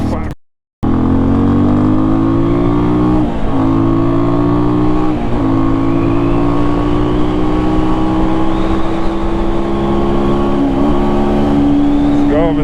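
A Sonlink SL 150KD motorcycle engine revs loud and close, rising in a long climbing pitch after a brief cut, then holding a strong steady drone as it accelerates.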